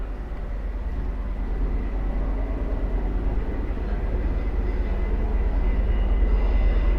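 A train rumbles past beside an abandoned road to a quarry, with a steady, heavy low roar and rolling clatter, holding loud and continuous throughout.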